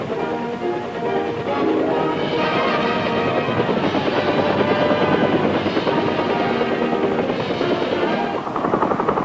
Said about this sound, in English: the Huey, would be the Sky Trooper's prime means of transport